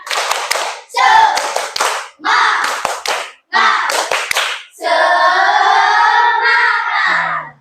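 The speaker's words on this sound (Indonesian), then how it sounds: "Tepuk semangat." A class of fifth-grade children standing and doing a rhythmic spirit clap, several quick bursts of loud, close hand clapping in a patterned beat, ending in a sustained group chant of voices.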